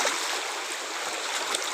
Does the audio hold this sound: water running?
yes